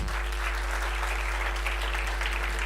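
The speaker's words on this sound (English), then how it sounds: "Let's give our panelists a final resounding sound of applause." An audience at a biotechnology conference applauds the panelists with steady, dense clapping that continues unbroken through the whole span and holds at an even loudness.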